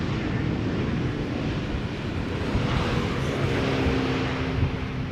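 A large airplane at Schiphol Airport produces a continuous, fairly loud broadband roar mixed with wind buffeting on the microphone, holding steady without a clear rise or fall.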